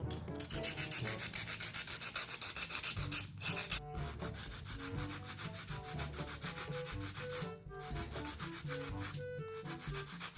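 Gel nails being filed with a hand nail file, a steady scratchy rubbing that repeats in quick strokes, close and continuous, with light background music underneath.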